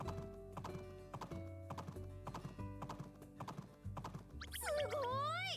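Hooves clip-clop in a quick, regular rhythm as a horse gallops in a farm video game, crisp and close, and the run ends in a loud, wavering neigh.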